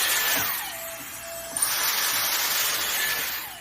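A Dyson AirStraight hair dryer runs steadily with a loud airy whoosh while drying hair, its pitch shifting slightly as it moves through the strands, with no talking.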